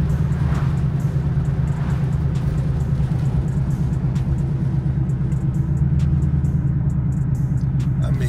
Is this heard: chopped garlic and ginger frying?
no